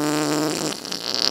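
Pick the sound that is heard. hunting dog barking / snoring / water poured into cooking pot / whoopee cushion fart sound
whoopee cushion fart sound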